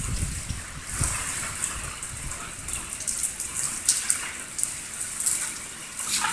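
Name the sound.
heavy rain with very big drops during thunderstorm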